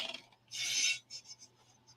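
Pencil or pen drawing a small one-inch-wide frame on paper, heard as a quiet close rasping stroke with a longer scratchy sweep in the middle, then a few short lighter strokes.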